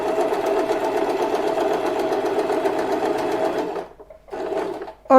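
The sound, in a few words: sewing machine stitching cloth for Laddu Gopal bedding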